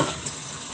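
Tomatoes fry in hot oil for beef biryani, giving a brief, close, dense sizzle with a slightly watery crackle.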